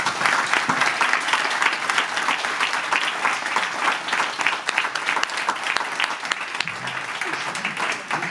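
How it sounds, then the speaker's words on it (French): An audience at a French school back-to-school gathering with the headteacher claps steadily, dense and loud throughout, with a few murmuring voices faintly underneath. "On va applaudir."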